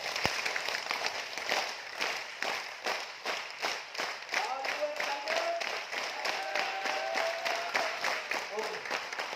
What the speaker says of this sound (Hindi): मेरे साथ करेंगे 1 2 3 क्लैप।